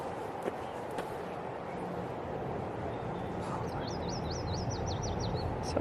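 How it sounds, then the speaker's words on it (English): Small birds chirp by a river, a quick run of bright, rising tweets in the second half over a steady outdoor wash of water and wind. "The birds are chirping."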